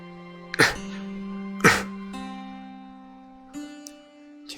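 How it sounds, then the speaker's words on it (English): In a narrative RPG video game, a character gives three harsh, throaty coughs at spaced intervals over sustained tonal music, close and clear with no talk. "She's coughing."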